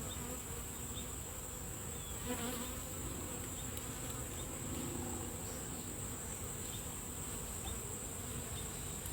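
Continuous buzzing of many honey bees close by around an open nuc hive during inspection, a steady dense hum with no talking.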